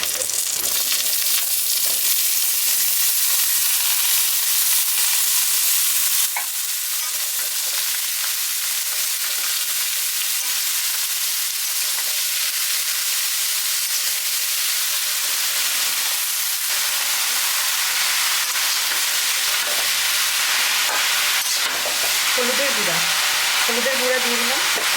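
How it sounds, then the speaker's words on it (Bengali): Chopped vegetables sizzle loudly in a pan of oil already holding onions fried brown with panch phoron, a dense continuous crackle with stirring that shifts briefly in tone partway through, and a faint voice near the end. "পেঁয়াজ ভাজা হয়ে গেছে, আমি এখন ভেজিটেবলগুলো দিয়ে দিই।"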